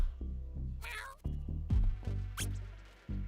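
A cat meowing in the video game YIIK: A Post-Modern RPG, several distinct meows in quick succession over light game music, close and clear.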